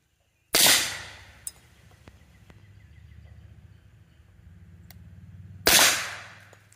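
Rifle fitted with a binary trigger firing at an outdoor shooting range, two sharp, loud, close reports several seconds apart, each trailing off in a brief echo over a low background rumble.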